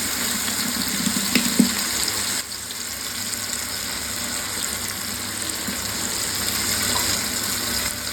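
Ghee is poured into a pan of potatoes cooking for vegetable pulao, giving a steady close sizzle and hiss with a slight shift partway through as the fat hits the pan. No one speaks.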